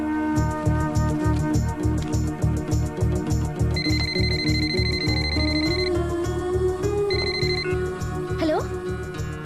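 A telephone rings in two bursts of high electronic tones, the second shorter, over loud rhythmic background music.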